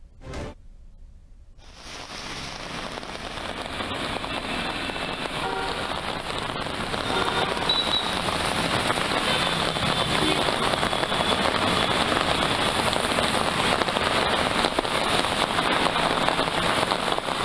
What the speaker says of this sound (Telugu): హైదరాబాద్ లో మరోసారి భారీ వర్షం కురుస్తోంది.